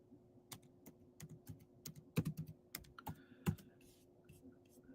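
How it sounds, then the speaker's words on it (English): A computer keyboard is tapped in a quiet room, sparse irregular clicks with a few sharper, louder key presses, over a faint steady hum. "Let me type in world map."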